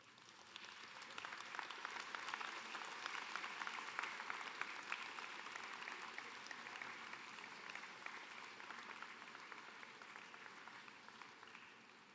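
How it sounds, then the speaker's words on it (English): Graduates at a University of Guelph convocation applaud faculty and staff with a steady, sustained round of applause from a large indoor crowd. It holds even and moderately distant for the whole stretch, with no talking over it. "Graduates, please stand, turn around, and give a round of applause."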